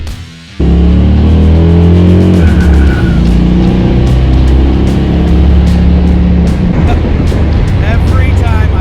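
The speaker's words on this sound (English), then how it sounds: "Every time I hit the throttle on this car, it gets better and better." A 1994 Buick Roadmaster's LT1 V8 revs hard under throttle, a loud close engine roar with rising pitch that climbs and holds, with rapid ticking or clattering layered on top.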